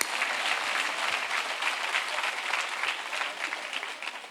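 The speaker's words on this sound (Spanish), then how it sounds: "Yo me aplaudo ahí, yo me aplaudo." A crowd applauding steadily and loudly, dense clapping sustained throughout with no pause.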